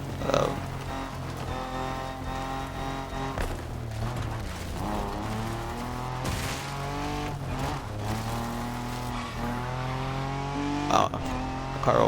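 A car in a racing video game drives close past, its engine whine holding steady under continuous in-game music and effects, with a brief rise as it sweeps by.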